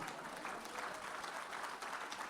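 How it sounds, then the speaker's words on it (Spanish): A church congregation at a conference in Peru claps loudly together, a dense, steady wash of applause filling the whole moment with no voices standing out. "Si usted lo cree, aplauda fuerte al Señor."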